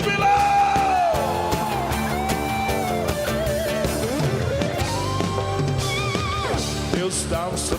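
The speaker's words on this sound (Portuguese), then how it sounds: "Quero ouvir o grito de júbilo." A church congregation on a religious program raises joyful shouting and yelling over loud, steady music, the voices dense and sustained for several seconds.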